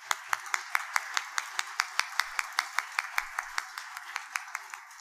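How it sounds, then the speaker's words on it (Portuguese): Sparse, evenly spaced clapping from a small group at a museum inauguration, a crisp rhythmic pattern of individual claps repeating at a steady pace, fairly faint, with a faint low voice or noise in the background. "a quem eu solicito uma salva de palmas. Aplausos."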